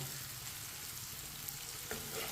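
Okra (bhindi) frying in a pan, a steady soft sizzle and crackle running throughout, moderately close, with a small clatter near the end and no talking.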